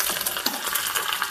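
Onions and curry leaves sizzle in a hot pan, a short steady crackling fry close up with no talk.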